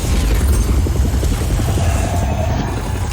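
Heavy booming cannon fire from airship wing cannons in the video game Just Cause 4, a loud, dense rumble of continuous low blasts and battle noise filling the whole stretch.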